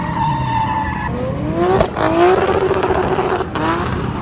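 A drift car at a drifting event revs hard, the engine pitch climbing in sweeping rises while tires squeal, loud and close, with a continuous roar throughout.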